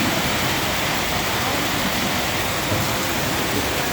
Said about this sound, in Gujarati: ચકાચક વરસાદ પડે છે આમ જોઈ લ્યો